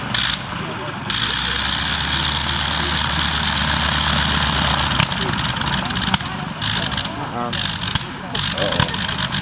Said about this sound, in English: Every time that engine kind of idles down a little bit